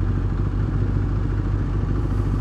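A KTM Duke 390 motorcycle with an aftermarket exhaust runs steadily, a loud, even engine drone that stays constant throughout at close range.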